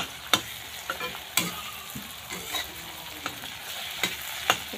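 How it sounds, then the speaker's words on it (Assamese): Brinjal and egg fry in a pan with a steady sizzle, broken by several sharp scraping clacks as a utensil stirs the mixture, close and fairly quiet. "ধুনীয়াকৈ ভাজি আছোঁ।"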